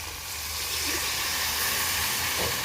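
Curd poured into a hot pan of fried onion, pumpkin, okra and colocasia sets off a steady, even sizzling hiss that holds at a close, moderate level throughout.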